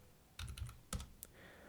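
Keys tap on a computer keyboard while CSS grid code is written, a short quiet run of close clicks in two quick clusters with a final single tap.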